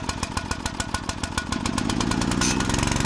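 A Stihl chainsaw's small two-stroke engine catches after a couple of pulls and runs, its rapid, steady firing pulses close and loud, rising in intensity partway through as it revs.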